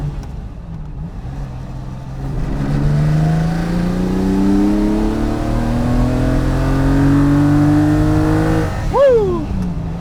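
A Lamborghini Miura V12 with freshly sorted carburetors and timing revs up hard, its rising harmonic engine note climbing steadily and loud, with a sharp final blip of the throttle near the end.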